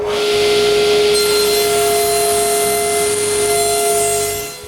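A band saw with its blade tilted to 15 degrees cutting the bottoms of wooden legs for small benches, giving a steady, loud whine and hiss that runs throughout with a constant hum underneath.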